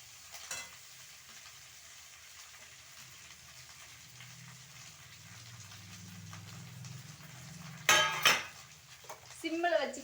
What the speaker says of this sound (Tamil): இப்போ பாருங்கள், அதை கொட்டி தாளிக்க போகிறேன்.